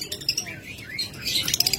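Pet birds such as lovebirds, cockatiels and budgerigars chirp and tweet in quick, bright calls at close range, under a speaking voice.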